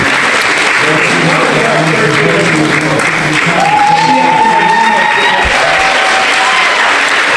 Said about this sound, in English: You can hear the round of applause as we wrap up the 4th annual Battle for the Lantern.